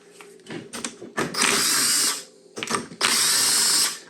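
Power tool zips loose 8mm bolts from a 1997–2005 Honda CR-V differential, two long whirring bursts each preceded by short ratcheting clicks and handling clatter, close and loud.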